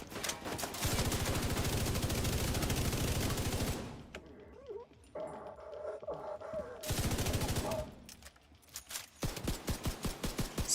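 Gunfire in the Payday video game: long sustained bursts of rapid automatic fire, a quieter pause with faint clinks, then another heavy burst and a string of separate single shots at the end.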